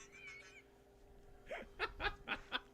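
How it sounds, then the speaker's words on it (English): Honking, goose-like bursts played from a soundboard as Gonk droid noises during a droid build, several short separate blasts in quick succession after a quieter stretch. "Joe, I don't know if that's Gonk noises or like post Taco Bell noises"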